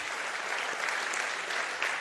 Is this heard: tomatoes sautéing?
no